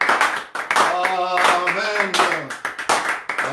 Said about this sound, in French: Est-ce qu'on peut applaudir pour Jésus?